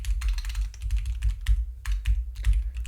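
Typing on a computer keyboard fills the room. Fingers tap the keys in a steady, close rattle with a few brief pauses, over a low background hum, and nobody speaks.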